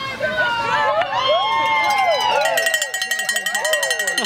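Spectators at a London/SE cyclo-cross league race cheer and shout, with a horn or whistle and excited voices in a dense crowd; a commentator talks over the noise, followed by a rapid string of claps.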